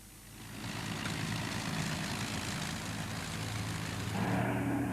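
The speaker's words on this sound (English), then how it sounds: "here's a sight become increasingly routine, a Lancaster leaving the sheds for its test flight" An Avro Lancaster bomber rolls out of the sheds for a test flight, its piston engines building into a steady, rumbling drone that grows slightly louder toward the end, moderately distant with no voices.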